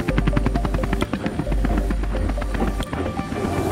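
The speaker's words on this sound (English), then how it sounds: "we have the nation's largest collegiate helicopter fleet" A training helicopter from a collegiate aviation fleet flies close by, its rotor blades chopping in a rapid, steady loud thumping with a constant engine whine and no voices.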